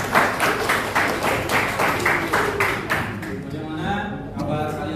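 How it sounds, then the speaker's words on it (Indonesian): An audience claps in a steady rhythm for several seconds, loud and close, then the clapping fades out. A voice speaks over the end. "tepuk tangan untuk kita semua"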